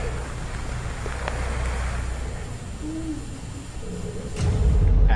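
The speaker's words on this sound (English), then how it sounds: "At first, we thought this was an owl" A low, soft hooting call sounds briefly amid outdoor rumble and wind, faint and somewhat distant, with no voices.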